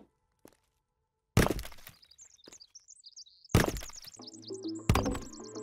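Chirping birds in The Forest, a wilderness survival video game, their quick high tweets recurring through the scene between several loud cracking and thudding bursts.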